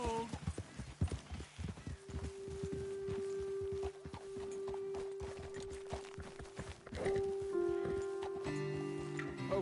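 A horse's hooves clip-clop at a steady walking pace on a path in Red Dead Redemption 2, close and rhythmic, with a sustained musical tone and a brief voice in the background.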